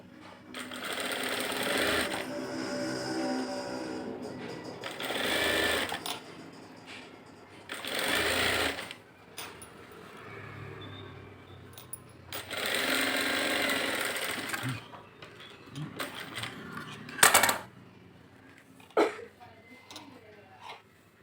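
Sewing machine stitching the lining of a blouse, running in loud bursts of several seconds separated by pauses, with short stops and starts near the end.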